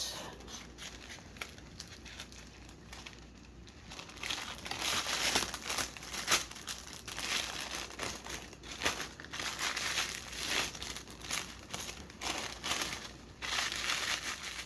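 Cellophane and tissue paper crinkle and rustle while a candy bouquet is wrapped: irregular bursts of crackling crumpling at close range, louder in the second half, with no voices.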